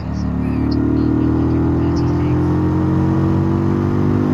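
A car engine accelerates with a loud, steady drone, building gradually as it pulls out to overtake a slow learner car on the road.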